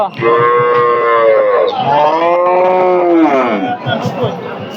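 Cattle lowing at a busy cattle market, loud drawn-out moos close by, one long call after another, over faint crowd chatter.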